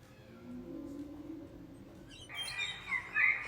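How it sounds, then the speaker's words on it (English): A whale call sped up until it resembles birds: high chirping, tweeting calls rise in the second half, bright and close, after a lower droning tone. "If I take a whale and we speed the whale up,"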